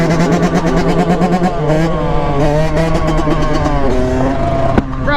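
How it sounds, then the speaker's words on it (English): Can-Am off-road vehicle engine revving nearby in a lot, loud buzzing rises and falls in pitch with several throttle blips, other engines around and voices over it. "we got a Can-Am with us"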